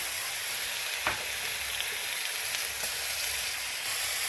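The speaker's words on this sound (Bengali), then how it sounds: "ভালো করে কষিয়ে এবার টমেটো পেস্টটা দিয়ে দিতে হবে।" Kashmiri chilli powder and tomato paste frying in a pan for a soya chunk and potato curry, giving a soft, even hiss of sizzling with a couple of faint stir knocks, no voices.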